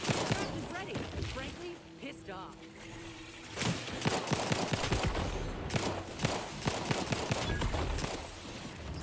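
Dense gunfire fills a battle in The Outer Worlds 2, with rapid bursts and scattered shots under ongoing game noise and some voices.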